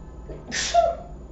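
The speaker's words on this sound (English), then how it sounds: "I'm gonna sneeze." A person sneezes once, a quick sharp burst with a brief intake before it, close and fairly quiet in a calm indoor room.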